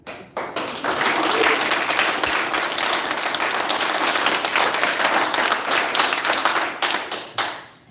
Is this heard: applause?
yes